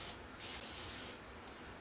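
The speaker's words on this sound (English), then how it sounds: "I'm going to spray it with a mist of my water." Spray bottle misting water onto a sanded, dusted wooden tea cart surface, a soft steady hiss in a couple of quick bursts, close and alone.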